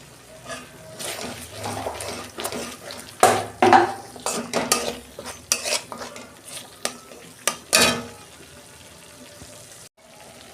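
Spice masala for spinach paneer being sautéed and stirred in a pan, with repeated spoon scrapes and clinks against the metal over a soft sizzle, several louder knocks standing out near the middle.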